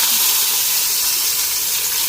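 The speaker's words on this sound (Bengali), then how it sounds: "জিরা ফোড়ন দিলাম।" Cumin seeds and bay leaf tempering in hot oil give a steady, bright sizzling hiss that holds evenly throughout without a break, with no one speaking.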